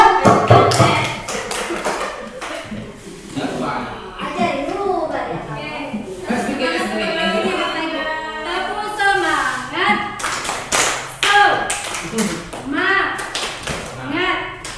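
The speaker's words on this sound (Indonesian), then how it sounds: "Tepuk tangan." In a school classroom, a group claps in bursts of taps that rise and fall, with voices speaking over the clapping throughout.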